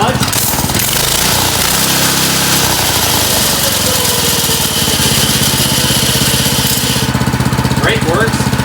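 A Harbor Freight ATV engine runs loud and close, a rapid rattling small-engine putter that stays steady throughout, with a brief higher whine near the end.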